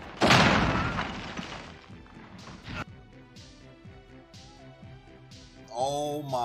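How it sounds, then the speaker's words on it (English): Airstrike explosions in Modern Warfare's Ground War mode: a loud crashing blast opens, followed by a string of rumbling booms that fade to more distant impacts, with another heavy hit at the end. "Friendly position airstrike inbound."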